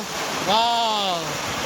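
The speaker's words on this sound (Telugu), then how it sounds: "చిన్న జలపాతం కూడా కనిపించింది చూడండి జలపాతం ఎలా వస్తుందో" A small waterfall rushes as a continuous broadband wash under the night air, while a voice cuts in over it briefly.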